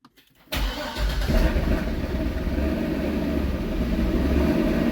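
A C6 Corvette engine with a newly installed cam cranks and catches on first start-up, then settles into a loud, steady, throaty idle that rumbles on without pause.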